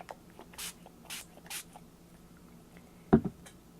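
White ink spray hitting a stencil template in three short, soft hissing bursts, followed by a sharper tap or clatter near the end, close up in a quiet room.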